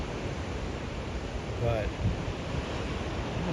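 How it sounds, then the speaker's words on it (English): Ocean surf on Bandon Beach, Oregon: a steady broadband wash of waves with wind buffeting the microphone, continuous and fairly loud, with a brief spoken word partway through. "I know, the ocean noise."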